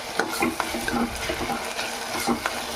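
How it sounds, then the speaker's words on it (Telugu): Chicken masala with ginger-garlic paste is stirred in a sizzling pan, a steady frying hiss broken by repeated scraping and scooping strokes of a ladle, close and fairly loud, with no talk. "బాగా గరిట పెట్టి తిప్పుకుందాం."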